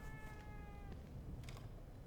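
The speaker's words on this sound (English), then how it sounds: "Hello, cat." A cat in the video game The Evil Within 2 meows once, a short tonal cry near the start over a low steady background hum, with a softer sound following.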